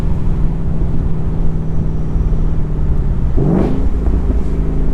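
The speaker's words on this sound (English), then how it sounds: "I love that little blip you get when it does the auto rev matching when you downshift." A 2019 Mustang GT cruises with a steady, loud exhaust drone until a single short rev-matching blip rises sharply on a downshift near the end, then settles back; no talk is heard.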